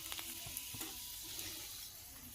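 Dried red chillies hit hot oil in a pan while cooking katla fish rezala, giving a steady, fairly faint sizzle with a few soft clinks and stirring taps, no voices.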